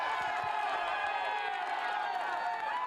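Roadside crowd at the Paris-Roubaix cycling race roars and cheers continuously, a dense wash of shouting and whooping voices at fairly close range.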